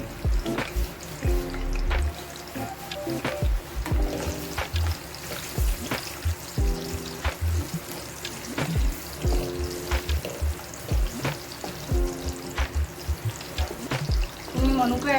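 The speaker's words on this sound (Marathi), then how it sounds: "मी काजू तळून घेते आधी" Cashews fry in a generous amount of ghee for moong dal halwa, giving a steady close sizzle with scraping stirs and intermittent clinks of a spoon against the pan.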